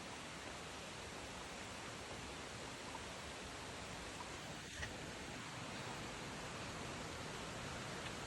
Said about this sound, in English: We're walking to the waterfall.